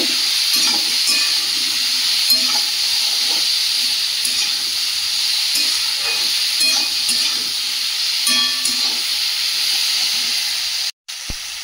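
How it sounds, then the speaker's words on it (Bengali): Food sautéing in a pan with salt and turmeric, giving a steady loud sizzle and hiss with intermittent stirring scrapes, heard alone without talk. "পরিমাণ মতো লবণ, দিয়ে ভালো করে কষিয়ে নেব।"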